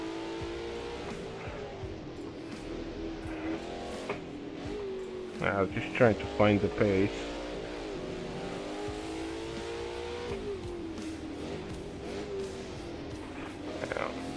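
A Chevrolet Dekon Monza Restomod Cup race car in Assetto Corsa drones steadily at high revs, with a brief burst of sharp upshifts and revving midway, while someone talks over it throughout.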